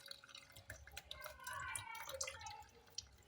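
Passion fruit juice drips through a sieve: faint, irregular small drips and trickles, quiet and close, with no talk.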